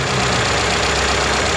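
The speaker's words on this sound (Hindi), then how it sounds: "अभी इसका इंजन स्टार्ट होके हो गया है" An overhauled Toyota Corolla 5A engine runs at a steady idle, loud and close, a continuous dense mechanical drone with no pauses.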